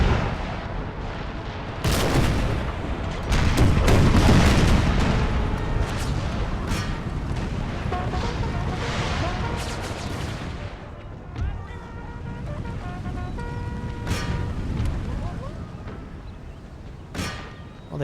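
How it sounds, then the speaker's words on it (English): Cannonballs striking in a video game battle at the First Battle of Bull Run: loud booming impacts and clangs with a heavy burst early on, then scattered cannon fire and muffled gunfire continuing beneath the clamor of combat. "those cannonballs are hitting so hard right now"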